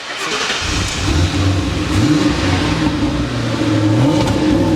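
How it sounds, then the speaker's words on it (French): An MG with an American-style V8 and four exhaust outlets starts up and revs, a loud close burbling rumble that swells and falls in low throaty surges with no voices. "c'est le gargouillement qu'on a d'un V8 typiquement américain"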